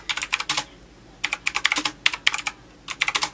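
Typing on The Pnk Stuff computer keyboard picked up by a Yeti microphone, with quick bursts of close, crisp keystrokes broken by short pauses.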